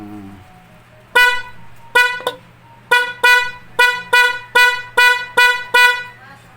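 A PIAA dual car horn honks loudly about ten times in short bursts, irregular at first and then settling into a quick, steady rhythm over a low engine hum.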